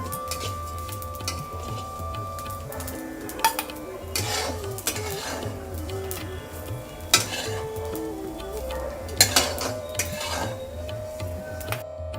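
Soaked puffed rice is stirred and fried in a pan for muri ghonto, with steady sizzling beneath repeated scraping and clinking of a spatula against the metal, close and alone with no talk.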